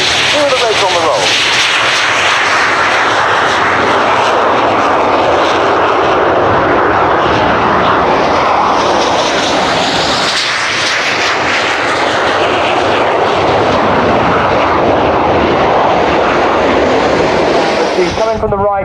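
Red Arrows jets take off together at the Royal International Air Tattoo 2017 with a loud, continuous roar that builds and sweeps past. An announcer talks over the engines.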